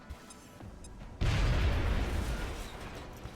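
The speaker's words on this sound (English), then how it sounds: "We can get a grenade just to get that cover taken care of" A grenade goes off in XCOM Enemy Within and blasts away cover, one sudden loud close boom that rolls into a long rumbling, debris-filled decay after a quiet lead-in.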